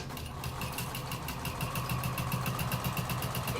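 Sewing machine stitching down the edge of a fabric tote bag, a steady motor hum with rapid, even needle clicks repeating throughout, close and alone without talk.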